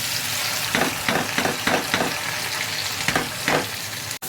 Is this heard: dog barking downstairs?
no